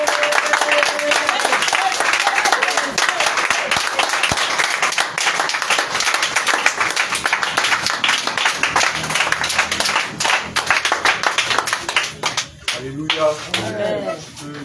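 A church congregation applauding during an evening thanksgiving service, loud continuous clapping from a large crowd that thins toward the end, with a voice speaking over it.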